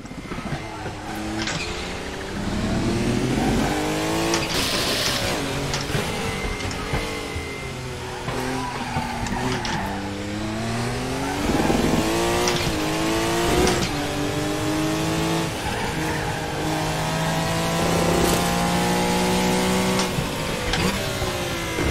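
A Porsche 962 C racing a lap of the Nordschleife in RaceRoom, its engine loud and close, revving up and down through gear changes with rising and falling pitch sweeps for the whole stretch.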